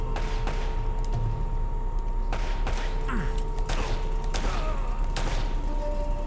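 Gunfire in a video game: several sharp shots and short bursts crack out at irregular intervals over a steady game background hum, loud and close, with no talking.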